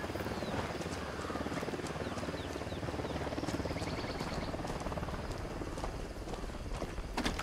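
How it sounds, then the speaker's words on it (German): A helicopter approaches in the video game Ghost Recon Wildlands, its rotor thumping steadily as a loud, close drone with chirping ambience and scattered game sounds layered on top. "Hubschrauber im Anflug."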